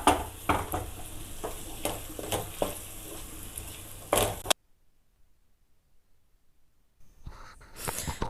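Tomato sizzling and frying with ginger garlic paste in a pan for kadai gravy, with repeated stirring scrapes, then a pause of near silence before the frying resumes faintly.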